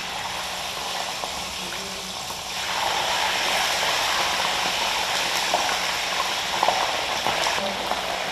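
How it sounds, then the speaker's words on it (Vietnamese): Fish frying in hot oil gives a steady, dense sizzle close by. It swells noticeably partway through as the fish goes into the pan, then continues as a constant hiss. "Dầu là nóng thì chúng ta sẽ tiến hành cho cả kinh vào chiên."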